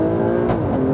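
Alfa Romeo Stelvio Quadrifoglio engine, 375 kW, pulling hard and loud with a brief break in the drone as it upshifts, then carrying on under load.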